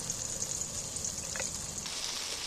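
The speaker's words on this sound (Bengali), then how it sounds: "এবার আমি টমেটোটার সাথে নুন, লঙ্কা, হলুদ একসাথে ভেজে নিচ্ছি।" Tomato frying with salt, chili and turmeric for a jackfruit curry, a constant close sizzle with a bright high hiss and a faint soft tap partway through.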